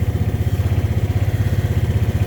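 An old John Deere Gator utility vehicle's engine running loud and close, with a steady low, rhythmic chugging pulse and some mechanical clatter at an even idle-like pace.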